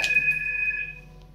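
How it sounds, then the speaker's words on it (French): A telephone rings indoors with a bright electronic ringtone, one sustained tone that fades out within about a second, close and clear with no voices. "ce téléphone qui sort, enfin, qui sonne au moment où je vous dis"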